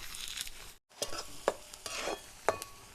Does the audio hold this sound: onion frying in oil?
yes